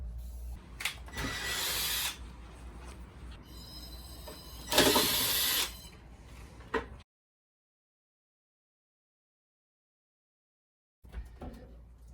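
A power tool whirs in short bursts as screws come out during disassembly of a boat galley, close and loud, followed by a stretch of silence and one more brief burst.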